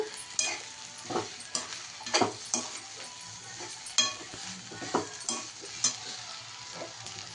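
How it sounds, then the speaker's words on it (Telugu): Onions and dal frying in a pan for onion chutney, a soft steady sizzle broken by repeated scraping clicks of a spoon stirring against the metal, close and with no talking. "వాటిని కూడా బాగా వేయించుకోవాలి"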